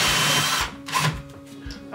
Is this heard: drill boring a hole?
yes